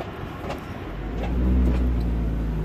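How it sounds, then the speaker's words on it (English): A Honda Prelude with an H23 engine and a cheap aftermarket exhaust idles and revs with a deep, rumbling exhaust drone that swells louder midway, close by, with no talking. "Bit on the noisy side. Stupid eBay exhaust."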